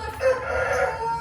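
A rooster crows once, a short clear call rising and holding, heard close and alone in a poultry-keeping setting where chickens are being treated for the respiratory disease ngorok.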